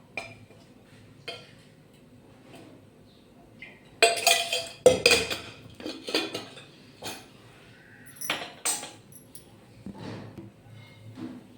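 A cooking pot set down on a stovetop, with metallic clinks and clatters of pots and utensils in bursts, fairly close, before oil goes in for a mixed vegetable dish; soft background sounds between the clanks.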